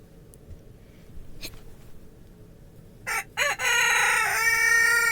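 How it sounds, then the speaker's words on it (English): A rooster crows loudly and close by after a few seconds of quiet outdoor background, with its call rising and trailing off at the end. The setting is a snowy yard after a snowstorm. "And Jared decided to start crowing."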